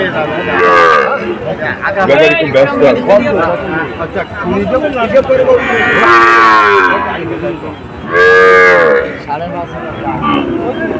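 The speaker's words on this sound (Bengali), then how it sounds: "দর্শক এখানে অনেকগুলো বাছুর আছে" Calves at a busy rural cattle market moo in loud, drawn-out bellows, several close calls rising over constant chatter and crowd talk.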